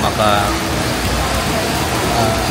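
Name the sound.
rain falling in the street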